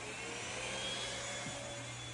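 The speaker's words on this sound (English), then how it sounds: "let's flip on the vacuum and see what happens." Inside an RV, a vacuum cleaner runs off a small EcoFlow River 2 portable power station, giving a steady, moderately quiet motor whine and airflow rush that holds unbroken throughout, with no voices.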